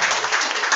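Brief, dense applause from a church congregation, a steady hiss of many hands clapping together at close range.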